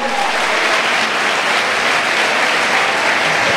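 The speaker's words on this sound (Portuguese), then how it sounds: "Pode aplaudir o Senhor." A church congregation at a state congress applauds loudly and evenly, a thick, continuous wash of many hands clapping without a pause and with no voices rising above it.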